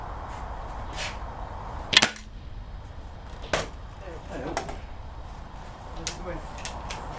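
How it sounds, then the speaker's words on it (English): A Gamo Whisper IGT .177 gas ram air rifle fires at an outdoor range, giving a sharp crack near two seconds, then a few fainter snaps and clicks against steady background noise and faint chatter. "Trying to get on with this rifle. It's a gas ram, it shoots pretty harsh"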